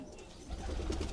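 Pigeons coo softly in a rooftop loft, a low throaty burble that swells in the second half of a short moment, with faint rustling and no speech.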